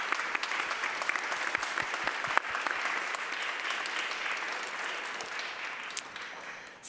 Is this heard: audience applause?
yes